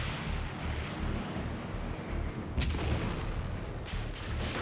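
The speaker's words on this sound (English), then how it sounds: "Violent fighting breaks out." Artillery and gunfire crackle and boom through a dense, steady roar of battle during violent street fighting in 1944 Paris, with distant bursts layered under continuous rumble.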